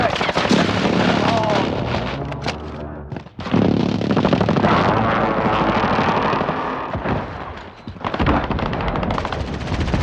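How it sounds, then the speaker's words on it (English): Precision airstrike explosions in a video game battle, with heavy blasts mixed into dense, continuous loud gunfire that keeps going for ten seconds with only a brief drop near the middle, and a short voice exclamation. "Precision airstrike, take cover!"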